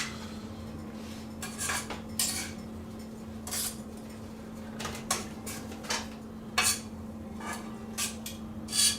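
Wilted spinach being moved from a hot pan into a container: a run of sharp metallic clinks and scrapes of utensil against pan, spaced irregularly over a steady low hum, with no talking.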